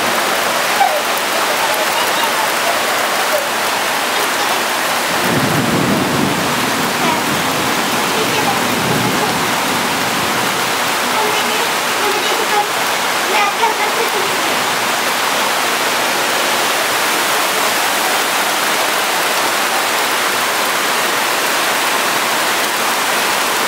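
Floodwater from a released reservoir rushes through a street in Bulgaria as a steady, loud roar of water that fills the whole scene, with a few faint voices talking under it.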